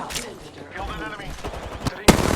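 Gunfire bursts from the battle royale game Apex Legends, rapid shots crackling under game noise and some chatter, ending in a loud sustained volley near the close.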